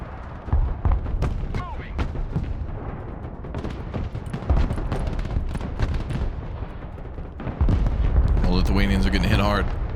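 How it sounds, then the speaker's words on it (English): Artillery and gunfire in the modern-warfare strategy game Broken Arrow crack and thud in rapid, uneven bursts, loud and continuous, with a voice speaking over the barrage. "And our artillery's popping off too."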